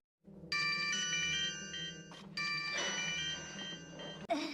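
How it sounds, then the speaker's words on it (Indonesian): A phone rings in a film scene, waking a woman: a bright electronic ringtone repeats loudly and steadily, breaks off briefly, then resumes before cutting out near the end. "Yang kemudian ia dibangunkan dengan telepon dari Lambert."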